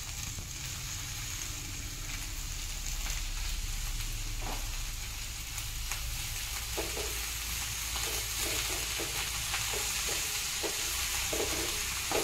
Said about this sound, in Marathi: आपण यात आता भाजी घालूया।